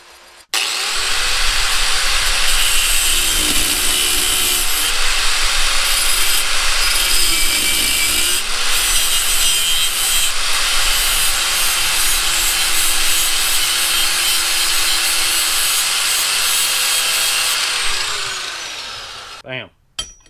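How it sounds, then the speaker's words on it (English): A power drill bores a hole through metal during an LS engine swap on a BMW E36, a steady loud grinding whine running almost continuously for about eighteen seconds before winding down. "Let's see if I can drill a hole through that."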